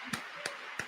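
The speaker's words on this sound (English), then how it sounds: "I clap now." Three sharp hand claps, evenly spaced and fairly close, standing out over a quiet background.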